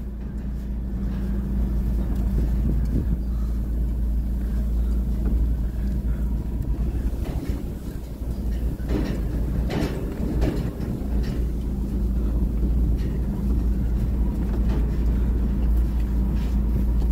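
A car reverses out of a muddy rice field, giving a constant deep engine rumble with scattered clattering and knocks, close and steady throughout.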